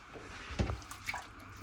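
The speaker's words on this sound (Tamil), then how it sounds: "ஒன்றரை கரண்டி உப்பு போட்டுட்டு புளி தண்ணி விட போகிறேன்" Tamarind water is poured into a Dorado fish curry, making a brief series of small splashes and drips up close, with no voices.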